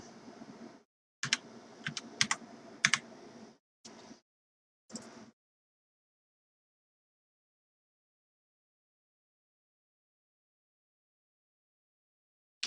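Typing a Wi-Fi password on a computer keyboard while setting up a Raspberry Pi: a few seconds of close, crisp keystroke bursts with brief pauses, then near silence.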